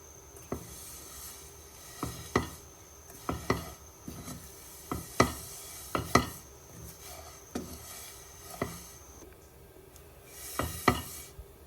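Vermicelli frying in oil in a pan while being stirred, with a steady low sizzle under repeated sharp scrapes and taps of a utensil against the pan, spaced irregularly across the stretch.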